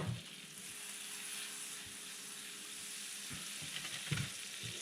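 Wiener schnitzel deep frying in a big chunk of butter in a pan, a steady close sizzle and crackle with a few louder pops and spatters near the end, no voices.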